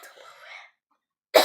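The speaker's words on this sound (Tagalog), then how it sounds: "sorry lang, inuubo" A soft breathy murmur fades out, then after a short silence one sharp, loud cough bursts out nearby.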